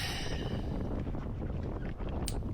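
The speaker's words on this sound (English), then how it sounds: "the wind is not lulling, so here's the gybe" Strong wind roars steadily over the microphone while a sailboat gybes, with water rushing and sloshing against the hull and a brief sharp knock near the end.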